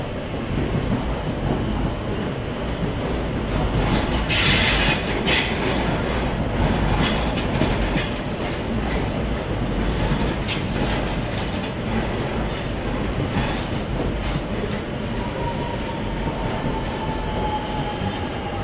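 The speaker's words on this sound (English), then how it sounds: "There is a train also approaching platform 23" A train rolls in close by at Sydney's Central Station with a steady heavy rumble, wheel squeal and rattling, plus a short hissing burst early on.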